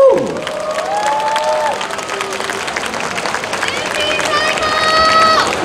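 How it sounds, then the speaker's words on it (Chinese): An audience at a cosplay carnival applauds and cheers after a Maid Planet maid-café group's stage performance. The clapping and crowd noise are loud and bright, mixed with whistle-like tones and voices throughout. "盛大掌声 ，May Planet"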